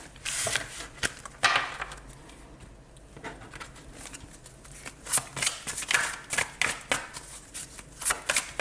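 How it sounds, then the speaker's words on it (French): Tarot cards being gathered and shuffled by hand, a run of quick riffling flutters and soft taps in irregular bursts, close and fairly quiet. "On va ranger toutes ces petites cartes."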